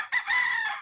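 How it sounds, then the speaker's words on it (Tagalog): A young gamefowl cockerel crows once on a farm, a short, close, sustained call lasting under a second. "Ayan ang mga manok."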